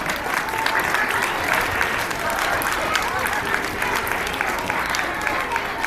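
A school Veterans Day assembly applauds military family members with loud, sustained clapping from a large crowd, an even roar of hands that continues unbroken for several seconds.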